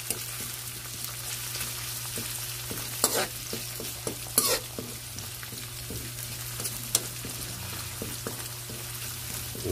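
Tomatoes sizzling in a frying pan as a utensil stirs them, a continuous fry with occasional scraping strokes and louder knocks against the pan.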